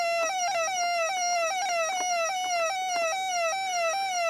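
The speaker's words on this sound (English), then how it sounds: "Oh, that siren's getting kind of tedious." Electronic ghost siren from a Coleco Pac-Man mini arcade game, a repeating rising-and-falling warble with quick beeps, steady and moderately loud, with no voices.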